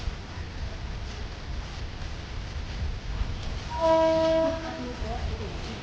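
A train pulls into Dhola junction with steady rumbling rail noise throughout and a loud, sustained horn blast sounding midway, near and prominent.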